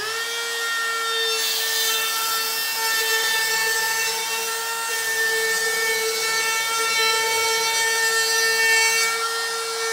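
A DeWalt router with a round-over bit cutting a wood edge, a loud, steady high-pitched whine with a tonal ring that runs continuously, close and alone.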